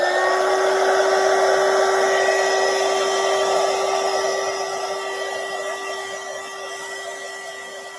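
A heat tool is held over embossing powder on a stamped card, giving off a loud, steady electric whine with a constant high tone over a rushing blow of air. It holds for several seconds and gradually grows slightly quieter.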